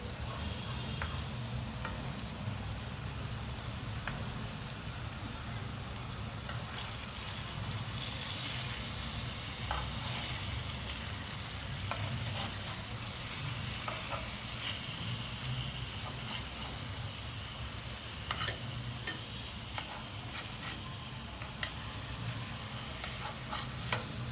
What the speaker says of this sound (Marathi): पलटी करून घेतलंय सगळं चिकन हे बघा एका बाजूकून दोन चार मिनटं ठेवलं होतं आता हे दुसऱ्या बाजूकून दोन चार मिनटं ठेवायचंय